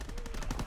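Rapid machine-gun fire from an aircraft strafing run in a video game, a brief quiet burst of evenly spaced shots.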